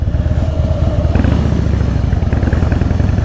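A Harley-Davidson Fat Boy motorcycle idles close by with a deep, loud, lumpy V-twin rumble that holds steady throughout, with a slight rise in revs partway through.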